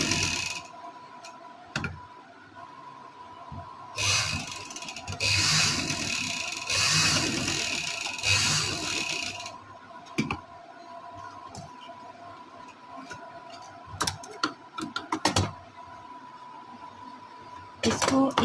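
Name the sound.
sewing machine stitching a V-shape neck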